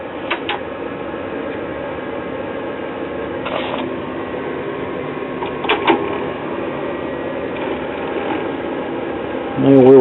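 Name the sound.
powered-up device with noisy rotating drive mechanism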